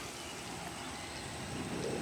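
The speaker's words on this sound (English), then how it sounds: "Still raining out here." Steady outdoor rain falling over a Texas garden, a soft continuous hiss with no talk.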